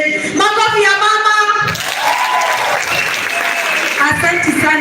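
An audience at a graduation ceremony applauds, a steady wash of clapping that runs through the whole moment, partly masked by an amplified voice speaking over it at first and by tonal sounds above.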